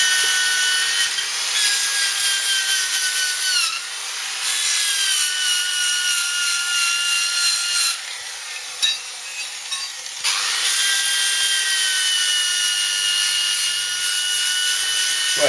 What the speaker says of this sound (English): I've got to get the old disc sander and get all the chrome off these